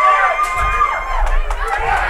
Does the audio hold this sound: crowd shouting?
yes